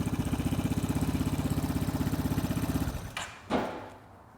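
Vespa Sprint/Primavera scooter on its center stand, fitted with an Akrapovic exhaust, revs with a steady pulsing drone for about three seconds, then cuts off and gives a couple of short blips before falling quiet.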